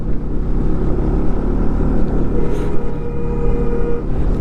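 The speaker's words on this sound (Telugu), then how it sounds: "బైక్ ఫస్ట్ గేర్ సెకండ్ గేర్లోనే వెళ్తున్నాం" A motorbike grinds up the dangerous road of Zojila pass in first and second gear, its engine a steady, loud rumble mixed with wind and road noise throughout, with no talking.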